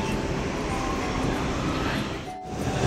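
A train runs through an LRT station in Kuala Lumpur, a steady loud broadband rumble and hiss that dips briefly near the end before swelling again, with no one speaking.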